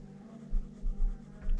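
Pencil scratches on paper while drawing a portrait's beard, short soft strokes in quick bursts, close and quiet with no talking.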